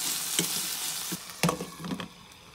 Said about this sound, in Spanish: Voy a hacer una pausa para darles una meneadita a las papas.